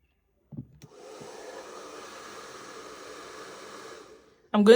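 Hair dryer blowing on a lace wig to dry off cleaning alcohol, a steady mid-level whooshing hum lasting about three seconds, with brief handling noises before it starts and a voice speaking just after it stops.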